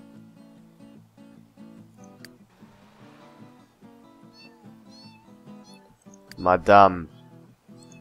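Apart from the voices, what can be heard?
cat meowing in video game The Sims 3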